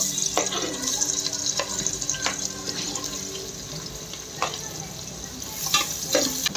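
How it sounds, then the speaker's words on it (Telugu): Onions frying in hot oil for a goat curry, with a continuous close hiss and periodic stirring scrapes and clinks in the pan. "ఇప్పుడు ఆనియన్స్ కూడా వేసుకుందాం మనం."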